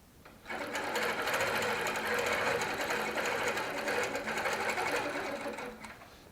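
A Baby Lock sewing machine runs steadily, stitching handmade cording onto a quilt with couching feet, a fast even mechanical whir that starts abruptly, holds for several seconds, then slows and stops.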